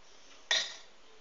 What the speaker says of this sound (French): je vais couper le surplus